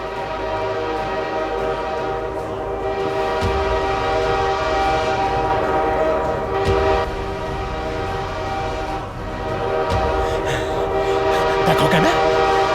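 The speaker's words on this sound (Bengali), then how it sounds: "ট্রেন আসছে যে গো।" A train approaches on the tracks in a rural Bengali setting, sounding a long, loud, sustained horn over the steady rumble of its cars, with brief swells in the middle.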